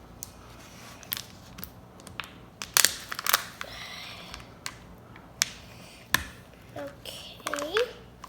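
Crinkly plastic wrapper of a Kinder Joy surprise egg being torn and unwrapped at close range in sharp crackling bursts, while someone talks over it.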